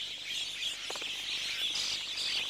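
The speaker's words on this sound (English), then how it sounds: "These are wattled starlings, and their liking for locusts has gained them the name of locust birds here in the Karoo." A flock of wattled starlings calling in the Karoo, a dense, steady chatter of high chirps and tweets at moderate distance, with no talking.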